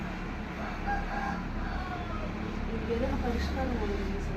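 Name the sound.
chickens, rooster crowing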